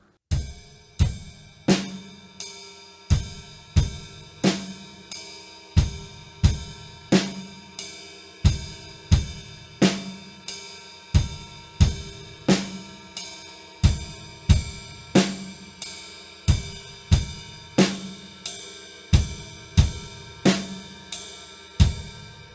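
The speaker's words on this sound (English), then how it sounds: "the whole time I'm going to play quarter notes on the ride cymbal" Drum kit groove with bass drum and left-hand snare under steady quarter notes on the ride cymbal, a simple repeating beat of sharp, evenly spaced hits played alone at a moderate tempo.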